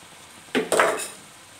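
Beaten eggs poured into a pan of stir-fried corn vermicelli with wilted vegetables, a brief clatter of utensil against the pan followed by a short hiss that quickly fades.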